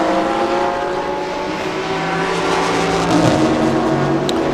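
A Toyota Supra GT4 race car runs on track at the 2023 Thailand Super Series, its engine droning loud and close, with steady revving and a shift in pitch partway through; no one talks.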